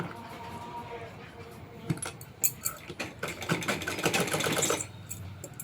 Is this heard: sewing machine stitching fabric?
yes